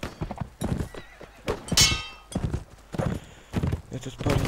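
A horse in the medieval battle game Mount and Blade: With Fire and Sword gallops with rapid clip-clop hoofbeats during a castle defense, then lets out a loud, shrill neigh partway through, with someone talking over the action.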